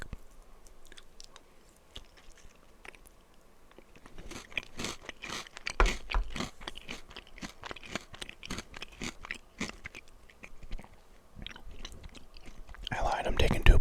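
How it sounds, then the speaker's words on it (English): Close, crunchy biting and chewing of yogurt cereal at breakfast comes as a series of irregular crisp crunches that grow louder toward the end, with a soft voice at times. "Take a bite of my yogurt cereal here real quick."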